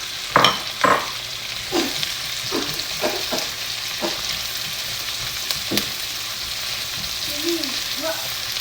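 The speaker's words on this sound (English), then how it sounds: "going to add onions. Caramelize it first" Onions frying in a pan for bacon fried rice make a steady close sizzle, broken by a few sharp utensil scrapes and clacks from stirring. No one speaks.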